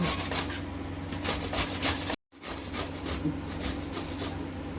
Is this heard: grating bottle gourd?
yes